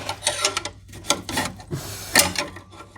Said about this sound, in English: I can just get in here with a screwdriver again and get behind the thermostat